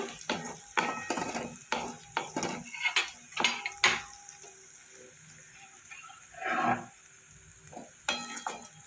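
Spices with Kashmiri chili powder stirred in a pan for Bengali masoor dal, with a spoon scraping and clinking against the metal in irregular bursts over a faint sizzle.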